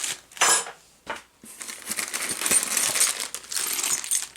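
Packaging for a Metabo DS150 bench grinder is handled and opened, giving crinkly rustling, crackling and clattering bursts of paper, plastic and loose parts close by, with brief pauses between handfuls.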